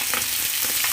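Pangas fish pieces fry in hot oil with a steady, close crackling sizzle that runs through the whole short moment, with a few soft stirring bursts on top.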